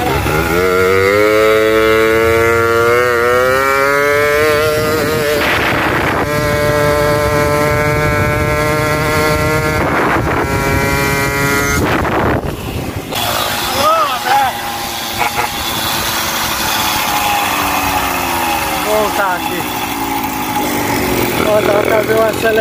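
A tuned moped with a Carter 2 setup revs hard in a rising, buzzing two-stroke whine, climbing and holding high pitch several times, loud and near, with voices talking in between.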